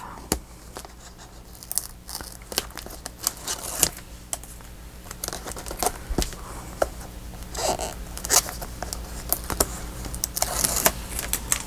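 Backing being peeled off an adhesive sheet during paper crafting of a file-folder folio, with crackly tearing and crinkling bursts and light handling noises, close and moderately quiet, no voices.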